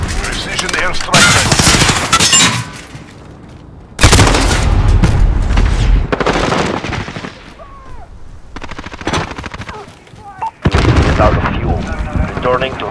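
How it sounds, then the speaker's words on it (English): Precision airstrike in Call of Duty: Modern Warfare, loud booming explosions and rattling gunfire crashing in repeated bursts, with radio chatter and voices in between. "Precision airstrike."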